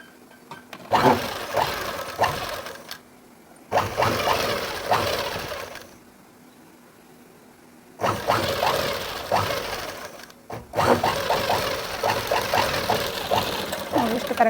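A sewing machine stitches fabric in four bursts of rapid, buzzing needle strokes lasting a few seconds each, separated by short pauses.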